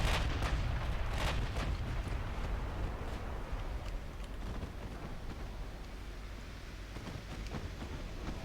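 Naval guns firing high-explosive shells in the warship game Ultimate Admiral Dreadnoughts, 1900 British campaign: a dense run of booming reports and rumbling blasts, loudest early on, over a continuous low roar.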